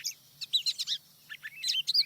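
Songbirds chirping and warbling in a played-back Sand County soundscape recording, bright overlapping tweets in bursts with brief gaps, moderately close over a low steady hum.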